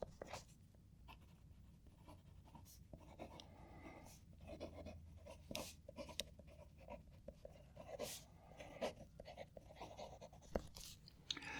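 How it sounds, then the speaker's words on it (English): TWSBI fountain pen nib writing a sentence on paper, close and quiet, a series of soft scratchy strokes and short scrapes in an uneven rhythm with small pauses between words. "Just move the paper over that way a little bit and I'll write a sentence."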